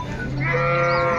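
A calf at a busy cattle market lets out one short, loud, close bleating moo against a background of crowd noise.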